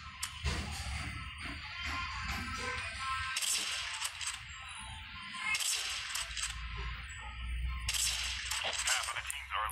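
Several separate gunshots from a TLQ rifle in Call of Duty Mobile, sharp cracks spaced a few seconds apart, with other game sounds mixed in between the shots.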